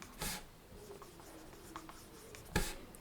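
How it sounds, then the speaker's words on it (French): Handwriting by hand, close and soft pen or marker strokes scratching across a surface in short bursts, with a couple of louder rubbing swipes and no speech. "Donc je vais l'écrire, ensemble des ventes"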